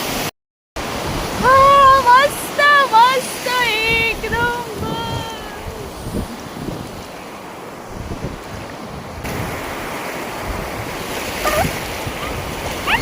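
Waves rush and wash in continuously, with broadband surf noise and some wind; a high voice sings or calls briefly near the start.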